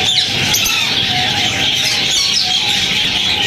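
Lovebirds, including Fischer's, lutino and peach-faced pairs, at a Sunday bird market in Bahawalpur, a dense continuous chorus of shrill chirps and squawks from many birds at once.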